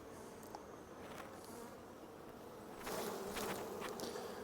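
Honeybees buzz steadily around an open, neglected hive late in the nectar flow, a soft, dense drone of many insects that swells louder toward the end.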